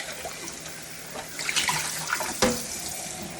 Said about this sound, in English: Next, I will rinse the soap out of the syringe.